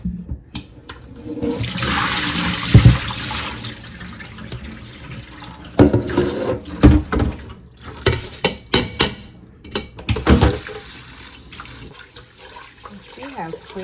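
Tap water runs and splashes as rice is rinsed in a container, with bursts of pouring and swishing between pauses, close and fairly loud, with a person talking intermittently.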